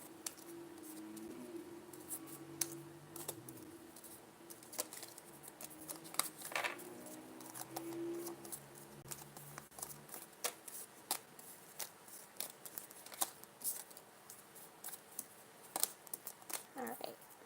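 Tarot cards are shuffled by hand in a series of crisp riffling and flicking bursts, close and fairly quiet, with a few brief tonal sounds early on and a continuous shuffle through to the end.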